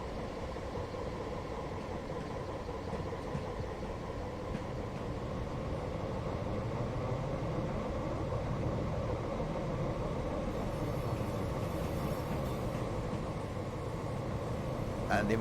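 A Class 175 diesel train rolls into Cardiff Central in a South Wales Main Line train simulator game, with a continuous engine hum and rail rumble under a talking voice.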